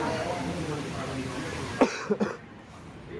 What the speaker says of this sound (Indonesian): Soalnya aku lagi batuk sih